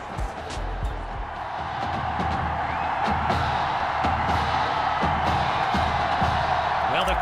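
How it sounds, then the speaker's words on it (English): Stadium crowd noise in the Madden 21 football video game on Xbox One, a continuous roar with whoops and scattered cheers that swells slightly louder, joined by occasional thuds and game effects. "the crowd is loud and on its feet as Allen Myers gets things started."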